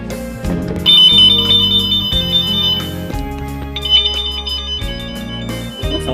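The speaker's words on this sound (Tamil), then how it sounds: "லாக் பண்ணிட்டு திருப்பி அன்லாக் பண்ணுற வரைக்கும் சவுண்டு வந்து அடிச்சிட்டே இருக்கும்" A Benling electric scooter's anti-theft alarm blares after locking, a loud continuous electronic siren of shifting repeated tones and pulsing bass notes that keeps sounding without pause.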